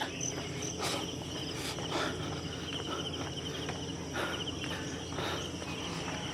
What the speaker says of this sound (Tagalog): Tumutunog pa rin yung mga kuliglig, no?